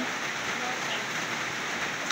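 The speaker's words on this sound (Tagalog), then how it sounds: "hindi pa po talaga umuhupa yung ulan" Steady rain falling on a rainy morning in Cebu, an even, dense hiss of drops on surfaces that continues unbroken throughout.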